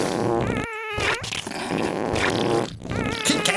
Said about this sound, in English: I just play fart sounds.